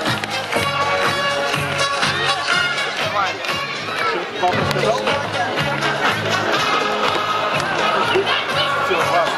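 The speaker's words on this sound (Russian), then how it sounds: "Аплодисменты нашей маленькой победительнице" A crowd at an outdoor village festival claps and cheers for a little girl who has won a prize, a dense steady roar of claps and shouts with music and chatter underneath.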